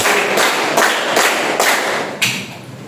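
Loud, steady claps repeating in a regular rhythm, roughly two or three per second, with a slightly stronger clap near the end.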